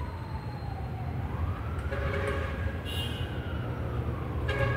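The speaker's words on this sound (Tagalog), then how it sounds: "Narinig niyo po yung sirena" An emergency siren wails near a large fire in a city neighborhood, a rising and falling tone heard at a distance over a constant rumbling background, with no voices.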